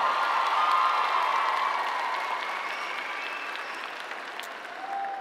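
A crowd at a high school graduation applauds the graduates, sustained clapping that fades gradually, with a faint hum or tone running beneath it.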